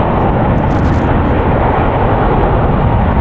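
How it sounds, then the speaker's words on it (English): A United Airlines Boeing 777-300ER, three years old, departing from runway 28 left in San Francisco produces a loud, steady broadband jet roar that continues unbroken throughout. "Boeing 777-300ER, 3 years old, departing on runway 28 left."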